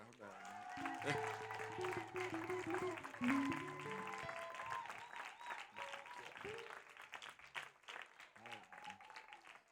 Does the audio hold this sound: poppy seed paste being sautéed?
no